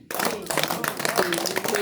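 Village children clapping together on cue, a dense burst of applause that runs the whole moment, with an adult voice talking over it.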